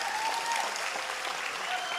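A crowd applauds steadily, a dense patter of clapping from many hands, with a faint tone whistling through in the background.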